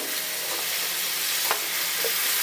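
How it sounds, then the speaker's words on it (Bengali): Vegetables including raw green banana, sweet potato, pumpkin and yardlong beans are stir-fried with spices in a pan, giving a steady broadband sizzle with a few sharp scraping clicks from the stirring utensil. "কাঁচা কলা রাঙা আলু সব একে একে সবজিগুলো আমি দিয়ে দিলাম এবার খুব ভালো করে মশলার সাথে এই সবজিগুলো কষিয়ে নেব"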